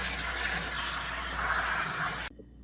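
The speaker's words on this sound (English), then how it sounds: "with the spinach, I'm just rinse it" Spinach being rinsed under running tap water, a steady close hiss and splash of flowing water that cuts off abruptly near the end.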